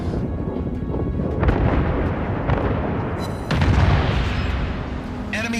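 Japanese 410mm, 45-caliber naval guns firing shells from the Amagi in World of Warships: deep, booming salvos roll over a constant low battle rumble, with heavier blasts at a few points.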